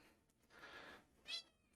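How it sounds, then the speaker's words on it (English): A house cat indoors gives one faint, distant meow that rises briefly over a quiet background hum, with no one talking. "We may have to deal with the cat meowing for a bit."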